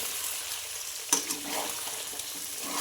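Chicken frying in a pan while being stirred, a steady close sizzle with a brief scrape of the stirring utensil partway through, no talking.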